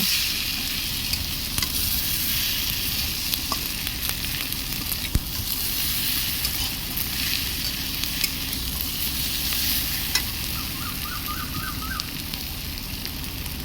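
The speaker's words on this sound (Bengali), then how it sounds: "এবার আগে থেকে ভেজে রাখা পনির দিয়ে দেব। পনির দিয়ে কিছুক্ষণ কষিয়ে নেব।" Fried paneer sautéing in masala, a loud, dense and continuous sizzle close up with faint occasional stirring taps and no speech throughout.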